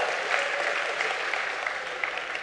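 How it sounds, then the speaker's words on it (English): An audience at a business conference session claps in sustained, even applause that fills the room without pause. "I need some applause at this stage."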